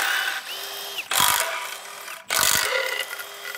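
Ratchet work on the power steering reservoir bracket of an abandoned Cobra Mustang engine: close, brisk bursts of clicking and whirring in several separate runs, with quieter gaps between them and no talking.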